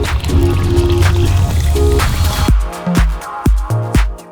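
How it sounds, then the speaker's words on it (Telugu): Water poured into a simmering tamarind fish curry with okra: a steady continuous pour for about two and a half seconds, then several short separate splashes and dribbles, close and fairly loud, with no talking. "చింతపులు పోసుకున్నాక ఇప్పుడు వాటర్ అయితే పోసుకుంటున్నాం ఎక్స్ట్రా."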